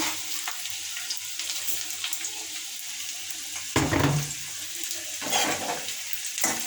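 Garlic and onion frying in hot oil in a village kitchen, a steady close sizzle with bursts of louder crackle and spatter as the pan is stirred, no talking.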